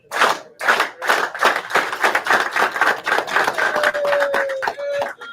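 A person claps their hands in a rhythmic series of sharp, close claps, steady at first and then quicker and denser, with a faint tone in the background and no voices.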